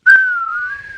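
A person whistles one loud, sustained note that glides slightly in pitch for about a second, heard alone with no talking.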